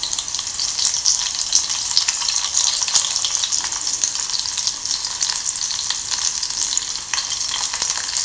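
Curry leaves frying in a pan give a steady, close, loud crackling sizzle that runs unbroken throughout, with no voices.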